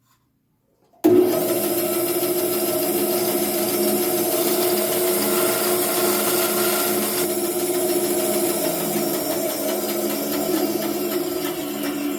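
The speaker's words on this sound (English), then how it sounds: "I slip it on the bandsaw and make the cuts" A bandsaw cuts small wood purfling pieces at an 11-degree angle on a jig for wheat purfling, a steady loud rasping whine that starts abruptly after a second of silence and runs unbroken.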